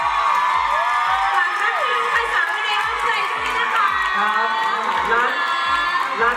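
A concert-like crowd at a Lazicon fan event cheers and whoops loudly and continuously, with shouting voices and music-like tones layered over a steady pulsing beat, dense and close throughout.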